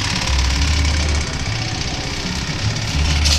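A go-kart engine idles close by with a rough, knocking putter, steady and loud, its pulse wavering slightly as it runs on alone.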